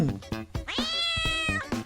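A cartoon cat in a Minecraft animation meows in a short close call, a rising drawn-out tone with clear harmonics, set among quick rhythmic thumps and pops.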